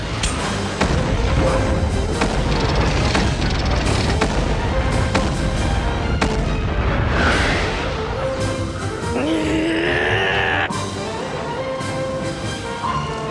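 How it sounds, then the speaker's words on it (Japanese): Revolver cannon firing in the video game Sakura Wars 3, a dense, continuous barrage of loud booms and blasts that rumbles on for several seconds and then tapers into a softer roar. "リボルバーカノン発射。"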